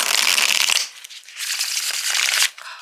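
A tarot card deck being shuffled: two close, crisp riffling bursts of cards flicking together, separated by a brief pause.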